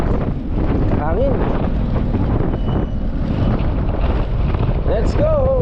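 Steady roaring wind buffets the microphone throughout, with a few brief voice-like squeals and faint chatter mixed into the rumble.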